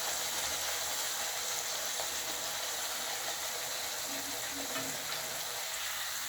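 Onion spicy poori frying in hot oil, a steady, close sizzle of bubbling oil that runs unbroken from start to finish with no voices.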